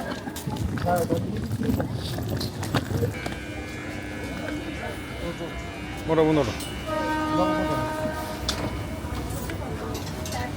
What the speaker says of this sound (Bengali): ট্রেন ঢুকে গেছে অলরেডি